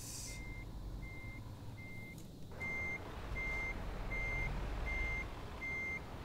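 A truck in the Euro Truck Simulator 2 game emits regular reversing beeps, evenly spaced and clear over a low engine rumble, roughly ten beeps across the stretch.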